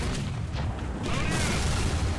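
A tank in War Thunder takes a hit from an enemy shell, a heavy booming impact with a dense rumbling low end that swells again midway and lingers loud over battle noise.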